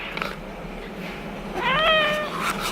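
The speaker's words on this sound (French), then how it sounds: "Non mais il y a 2 chats là-dedans." A cat gives a single clear meow in a home where two cats are kept, rising then falling, fairly close against a quiet indoor background with a faint soft sound early on.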